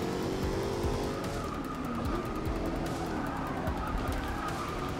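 Race cars in a Forza 6 European tour race roar continuously with engine drone and tire skids as cars jostle and bump, a steady loud wash of motor noise throughout.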